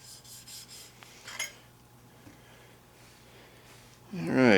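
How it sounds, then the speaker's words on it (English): A Japanese plane blade is rubbed over a small diamond stone in a few short, quiet rasping strokes, followed by a louder scrape at the end. "It's a little diamond stone. Just going to rub this a couple of times and see what it hits."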